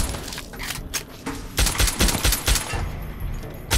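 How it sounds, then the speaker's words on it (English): Rapid video-game gunfire from Fallout New Vegas in the Honest Hearts add-on, a fusillade of sharp cracking shots in irregular clusters, loud and close, with no talk over them. "shot his weapon out of his hand"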